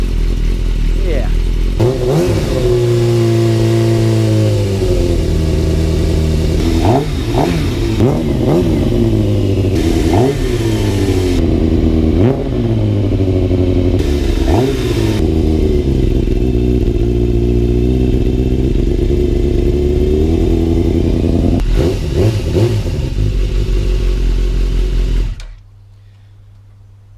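A Yamaha YZF 600 Thundercat motorcycle engine warming up idles and repeatedly revs up and drops back, loud and close, with the sound cutting off abruptly near the end.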